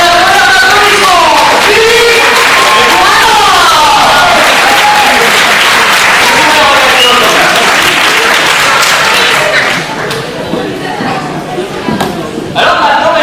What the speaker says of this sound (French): Je vous demande un applaudissement